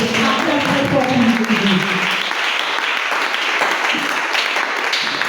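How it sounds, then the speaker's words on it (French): A church congregation claps loudly for Jesus, a dense wash of applause that starts under a voice and carries on alone to the end. "Acclame très fort pour Jésus."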